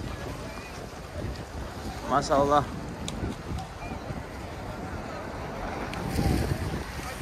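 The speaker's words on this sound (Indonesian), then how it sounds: "Tuh, anginnya sangat kencang sekali." Strong wind buffets the microphone as a steady, rough rumble that swells again toward the end, with someone speaking briefly over it partway through.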